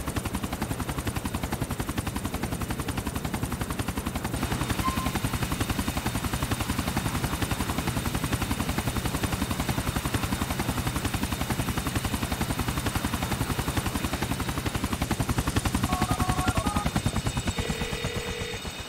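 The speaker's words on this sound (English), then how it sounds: "We shut down that chopper for you." A helicopter in Grand Theft Auto IV beats in a fast, continuous rotor chop for a long stretch, loud and steady throughout, with faint higher electronic tones near the end.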